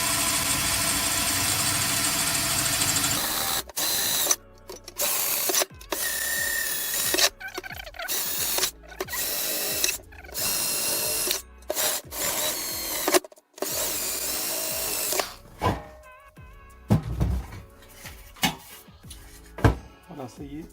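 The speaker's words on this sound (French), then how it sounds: "maintenant je vais faire le trou au diamètre correspondant à ma fixation" An electric drill bores a hole sized for a fixing after 2 mm pilot holes, running in loud, close bursts of steady whine broken by short pauses, with a roughened tone toward the end.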